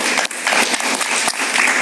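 Studio audience applauding a guest on a Spanish-language TV talk show, a brief, dense burst of clapping that fills the short clip at close range.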